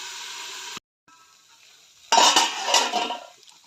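A lid clatters onto a metal frying pan of papaya being fried in a home kitchen: one sharp clank after a brief pause, then a few seconds of rattling and scraping.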